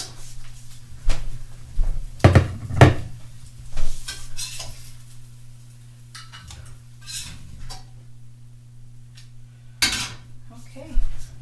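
Plates, dishes and cutlery clink and clatter in a home kitchen as fried eggs and homemade biscuits are plated, with sharp scattered knocks over a steady low hum, close by, with brief quiet gaps.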